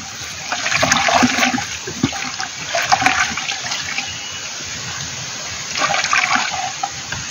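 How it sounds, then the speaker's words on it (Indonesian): Microbial solution diluted at one liter per ten liters of water being stirred, giving a steady sloshing, swirling water sound with brief louder surges, close by and heard alone. "Kita cairkan 1 liter per 10 liter air teman-teman ya. Nah kita aduk teman-teman."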